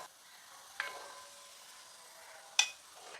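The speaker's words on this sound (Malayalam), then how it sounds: "ഒരു രണ്ട് സ്പൂൺ നെയ്യ് അങ്ങോട്ട് ഒഴിച്ചു അതിലേക്ക് നമ്മൾ ക്യാഷു മുന്തിരി ഒന്ന് വറുത്ത് വയ്ക്കാവേ" Cashews and raisins fry in a couple of spoons of ghee with a quiet, faint sizzle, broken by two sharp metallic taps of a spoon against the pan; no talking.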